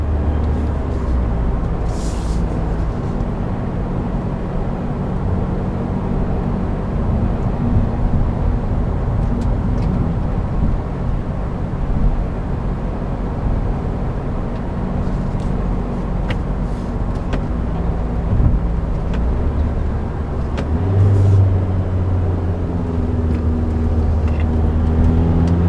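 A 2014 Volkswagen Jetta TDI diesel with a DSG gearbox accelerates on the road, its steady low engine drone and road rumble heard from inside the cabin, swelling slightly as it picks up speed.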